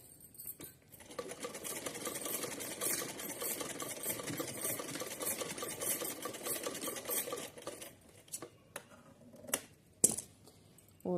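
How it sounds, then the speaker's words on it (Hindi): A sewing machine runs a fast, continuous double line of stitching on a small handmade dress for a Laddu Gopal figure, then stops and gives way to scattered clicks and handling taps. "डबल सिलाई लगा लेते हैं इसको।"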